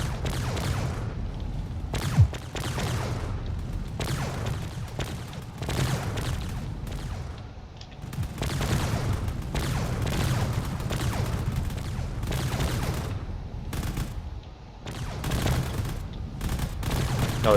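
Space battle in a video game, railgun fire and explosions around a distant supercarrier, a dense rapid barrage of shots and booms firing in steady bursts, sustained and fairly loud.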